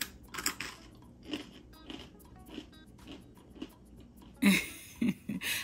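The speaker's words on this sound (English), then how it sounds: "we're making breadsticks that are super crunchy" Quiet crunching bites and chewing of homemade Nutella-style breadsticks, close up, with a sharper louder crunch near the end.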